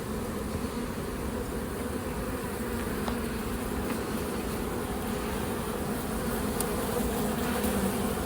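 Honeybees buzz inside a Mini-Plus hive in a dense, steady drone, close and constant throughout, with no pauses or talking.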